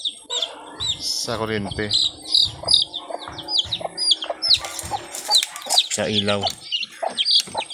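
Baby chicks chirp in their coop in a steady stream of thin, high peeps from several birds close by, with an adult hen clucking at times and a person talking over them.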